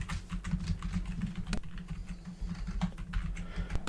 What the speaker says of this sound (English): I'm just typing the notes. I know you hear the clicky clack.